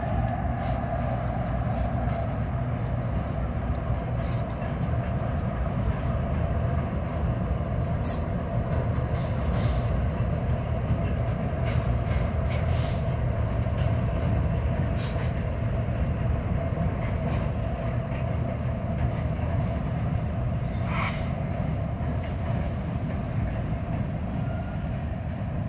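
A freight train pulled by two KCS diesel locomotives rolls past close by, a loud, steady rumble of engines and wheels lasting throughout, with metallic clanks and faint squeals over the roar.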